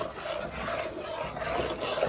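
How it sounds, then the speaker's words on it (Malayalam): A spoon scrapes and rubs against the bottom of a pot while a jaggery mixture is stirred, a continuous close rasping sound with gentle rhythmic strokes. "ആ അതെ, നമ്മൾ അടി തട്ടുകയാണ് ഈ പാത്രത്തിന്റെ"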